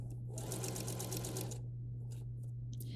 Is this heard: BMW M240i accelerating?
no